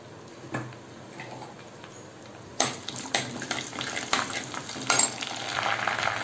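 Cinnamon, cloves, cardamom and curry leaves dropped into hot sesame oil in a clay pot burst into a loud crackling sizzle after a quiet start, spitting and popping close by, with a few clattering knocks.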